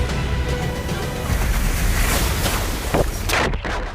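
A huge ocean wave surges toward shore where cars are parked, a broad, roaring wash of water and wind noise building steadily and staying loud throughout, with no voices.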